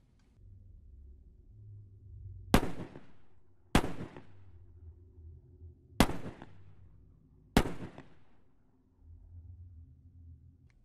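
Four sharp pistol shots ring out one after another in the film The Mist, spaced a second or two apart, each a loud crack over a low rumbling background.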